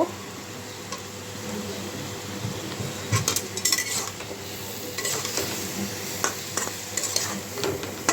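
Rohu fish curry with potato, cauliflower and tomato frying in a pan while a metal spoon stirs and scrapes, giving a continuous close sizzle under repeated clinks and scraping strokes.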